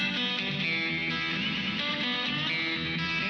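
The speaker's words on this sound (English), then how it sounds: "If I turn the feedback up, you'll hear the echo a bit better." An electric guitar runs through a fast slapback echo effect with the feedback turned up, giving a continuous, dense, distorted tone with smeared repeats that never drops out.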